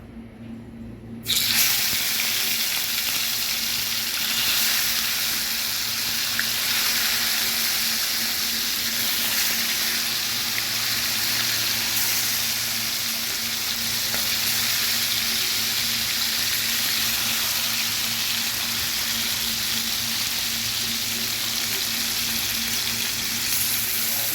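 Sardines fry in hot oil with a loud, steady, hissing sizzle that starts suddenly and continues unbroken, with a faint low hum underneath.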